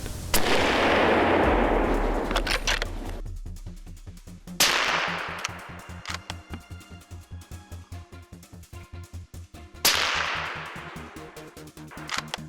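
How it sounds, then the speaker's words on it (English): Rifle fire during a wild boar hunt in a snowy forest: three loud sharp cracks spaced several seconds apart, each ringing out, between them a quick rapid rattle of lighter pops. "we fired off a rapid series of shots"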